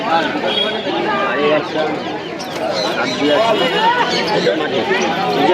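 Pigeons at the Santipur market, soft cooing and fluttering mixed into busy crowd chatter, with people talking close by throughout.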